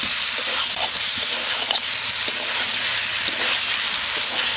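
Fish heads fry in a pan with a loud, dense, continuous sizzle and crackle that holds steady throughout, with no talking.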